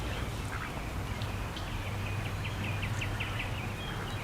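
Several ducks quack in a garden in a quick repeated series of short calls, faint and moderately distant over a low background hum with light rustling, and nobody talks.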